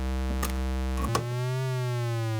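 Miniature synthesizer voice with a quantizer module bypassed, driven by an unquantized LFO: a steady sustained tone that bends smoothly in pitch, with a couple of brief clicks early on, heard alone and fairly loud.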